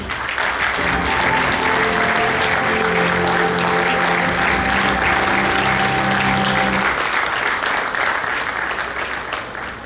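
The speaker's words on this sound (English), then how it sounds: "Request you all to offer resonating sound of applause, please." A conference audience at a sub-regional technical session breaks into loud, sustained applause that fills about ten seconds, with a faint tonal hum running beneath the clapping for most of it.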